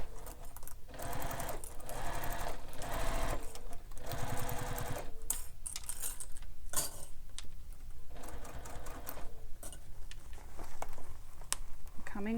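Sewing machine stitching a bag seam, a fast continuous mechanical patter in loud bursts with brief pauses between runs, close up, with a voice talking over it.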